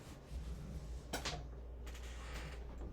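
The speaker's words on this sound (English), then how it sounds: "Let me open my door." A door opens in a dim former institution building, giving a short creaking transient and a couple of faint scraping movements over a steady low hum.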